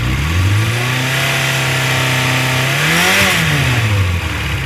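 A 1992 Yamaha XJ600 Seca II motorcycle engine idles loudly up close, then revs up and drops back down twice, the pitch climbing and falling with each blip.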